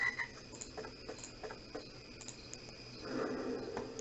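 Frog croaking in the adventure game Dark Parables, a low repeated croak under a steady hum of game ambience, swelling into a louder, denser burst near the end.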